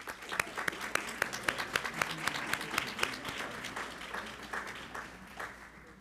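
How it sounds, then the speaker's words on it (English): Round of applause at a school board meeting honoring cadets, distinct handclaps at first, merging into a steady moderate ovation that tapers off, no talking. "Let's give them a round of applause"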